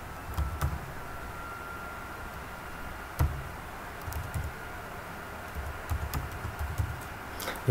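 Code is typed on a computer keyboard in quiet short bursts, with soft, uneven clusters of keystrokes and a few sharper single taps.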